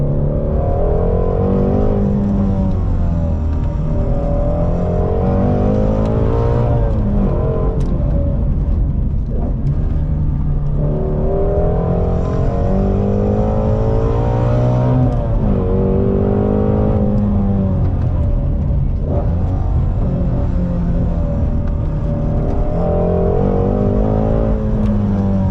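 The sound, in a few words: Ford Shelby GT350R sports car engine driving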